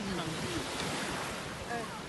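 Sea surf at a hotel beach in Beldibi, Turkey, rolls as a steady loud wash of waves mixed with wind buffeting the microphone.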